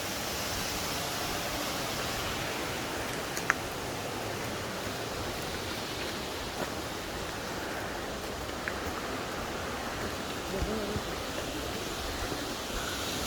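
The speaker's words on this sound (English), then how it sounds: "The water there, right? There is really loud." Loud rushing water near a mountain hiking spot, a dense, steady roar like a waterfall or torrent filling the scene without pause, with a few faint clicks on top.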